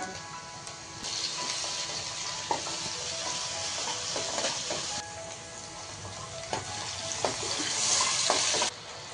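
Onion with ginger-garlic paste frying in about two ladles of oil for a home-style egg curry, a continuous hiss of sizzling with occasional scraping stirs and clinks, close and steady with no talking.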